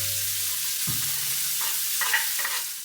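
Garlic, batter, green chili and onion go into a pan with cumin and asafoetida, giving a moderate steady sizzle broken by a few clattering stirs and additions.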